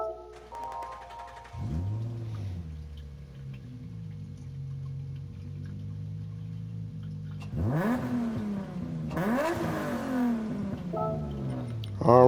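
The Amuse NISMO 380RS Super Leggera in Gran Turismo 7 starts up with a starter crank, then settles into a steady rumbling idle, followed by two sharp revs that rise and fall before idling again.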